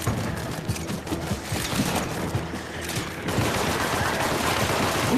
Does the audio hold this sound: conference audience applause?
no